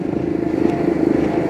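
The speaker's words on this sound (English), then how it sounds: "We are on a Royal Enfield Himalayan from 2019." A heavily modified 2019 Royal Enfield Himalayan dirt bike, with new tires and adjustable YSS suspension front and rear, hums with a steady, close engine drone as it is ridden, without any talking.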